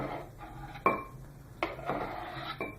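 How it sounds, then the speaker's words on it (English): Tomato slices being moved into a bowl in a home kitchen, with soft clinks and scrapes of a utensil against dishware in a few brief bursts over a quiet background. "Transfer all tomato slices to the bowl."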